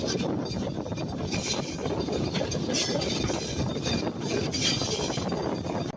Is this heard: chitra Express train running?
yes